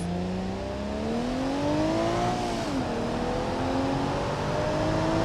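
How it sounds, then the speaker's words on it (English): A BMW E36 in BeamNG.drive accelerates with a smooth, steadily climbing engine whine, dips briefly at a gear change, then pulls and rises again, loud and continuous with no talk. "Bmw E36."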